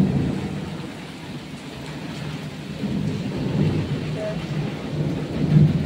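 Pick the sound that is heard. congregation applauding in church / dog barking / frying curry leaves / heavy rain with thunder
heavy rain with thunder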